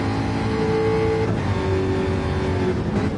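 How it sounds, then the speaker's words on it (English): Race car engine droning steadily in Gran Turismo 7 on the Suzuka circuit, loud and continuous with sustained revving tones that shift pitch as the car runs toward the first corner, no voices present. "So let's jump on board then with Gower as we cross the start-finish line, heading down towards turn 1"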